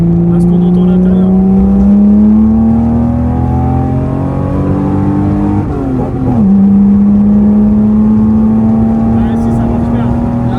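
A loud carbureted six-cylinder engine of a Nissan Datsun 280Z drones steadily with rising pitch as it revs, briefly dipping in the middle before climbing again, heard up close from inside the car.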